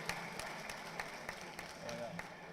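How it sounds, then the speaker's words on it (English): Audience applause at a bishop's 70th birthday celebration: a steady, dense wash of clapping from a crowd, sustained throughout with scattered sharper claps standing out. "Can you give a clap offering?"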